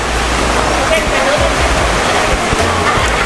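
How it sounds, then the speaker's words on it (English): Open-ocean waves at Gumasa Bay on a Mindanao beach in the Philippines, heard as a loud, continuous wash of surf with a steady hiss and little variation. "But here we have open ocean"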